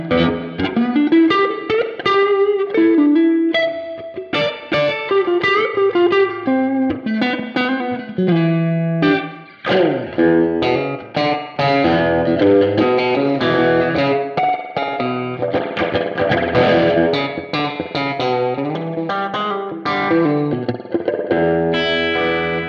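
An electric guitar runs through a budget Flamma FS02 reverb pedal, playing continuous notes and chords that ring out with a large, washy reverb tail, loud and unaccompanied.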